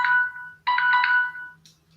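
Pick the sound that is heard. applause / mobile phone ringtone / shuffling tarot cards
mobile phone ringtone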